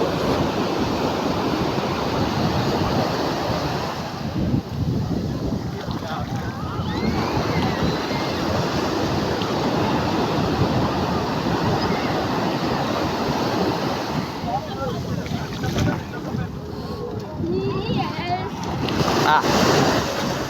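Sea waves roll onto Puri beach in a steady, dense wash of surf mixed with wind rumble on the microphone, continuous and fairly loud throughout, with voices faintly present.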